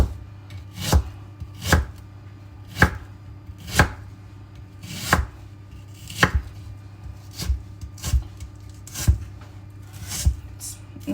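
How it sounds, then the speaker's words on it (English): An onion roughly chopped with a knife on a cutting board for chicken shawarma, about a dozen sharp, close thuds at an unhurried, slightly uneven pace, no talking. "just roughly chop the onion"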